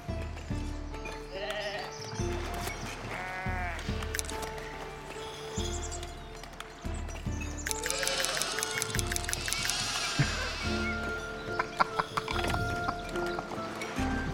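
Sheep in the Foundation video game bleat repeatedly over steady game music and ambient sounds, several wavering calls spread across the scene, some close and loud, others softer.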